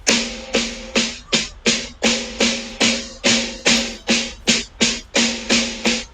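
Drum played with a steady run of about fifteen strokes whose attack and loudness vary from hit to hit, each sharp crack ringing briefly before the next, close and alone.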